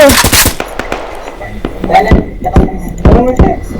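Rapid bursts of automatic gunfire in the Roblox game Warfare, several sharp close shots in quick clusters, with excited talk over the shooting.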